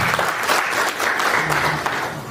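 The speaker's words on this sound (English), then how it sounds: "Give a big round of applause for Dr. Binoy Kumar Singh" An audience at a college chemistry seminar gives a loud round of applause, dense continuous clapping filling the whole short stretch at a steady level, with no one speaking.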